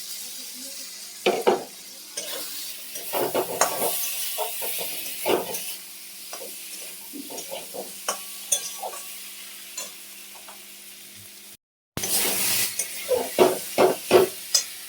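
Vegetables fry in spiced oil while a spoon stirs them in the pan, giving repeated scraping and clattering strokes over a soft sizzle, with a brief dropout near the end before the stirring resumes more strongly.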